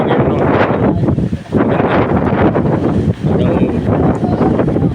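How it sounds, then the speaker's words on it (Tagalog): Strong wind over Lumot Lake in Cavinti, Laguna buffets the microphone in loud, gusty roaring bursts, with choppy water noise underneath. "Grabe lakas ang hangin, maalon."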